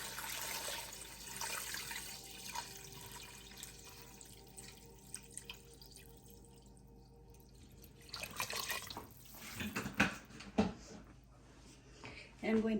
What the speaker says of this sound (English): I'm just going to add some filtered water.